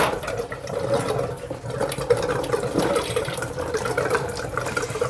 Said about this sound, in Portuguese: Pode ver lá que começou a sair mais água da torneira do tanque